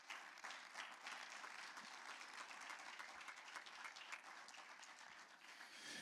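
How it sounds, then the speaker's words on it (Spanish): A church congregation applauds steadily for several seconds, dense clapping from many hands at moderate distance, with no voices standing out. "Dale un aplauso al Señor"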